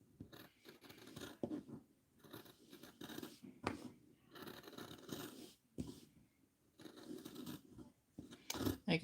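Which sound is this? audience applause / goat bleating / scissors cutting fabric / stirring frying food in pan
scissors cutting fabric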